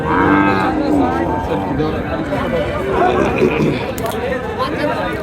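Sahiwal cattle moo loudly at a livestock market in Chapainawabganj, with a drawn-out low call at the start over a busy hubbub of crowd chatter and people talking nearby.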